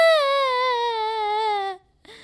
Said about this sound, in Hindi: तभी झोपड़ी के अंदर से बच्चे के रोने की आवाज आई।